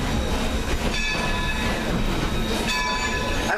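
A passenger coach pulled by Baldwin locomotive no. 26 rolls across a 1906 trestle, giving a steady, close rumble and rattle of the train with faint squeals throughout, and no talk.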